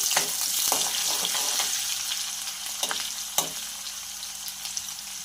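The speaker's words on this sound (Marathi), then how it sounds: "आणि मग मोहरी जिरी मोहरी तळतळून झालेली आहे आपली यामध्ये हिरवी मिरची घालूया" Chopped green chillies hit hot oil over a mustard and cumin seed tempering for besan pithla, giving a steady close sizzle with a few sharp spitting pops that calm toward the end.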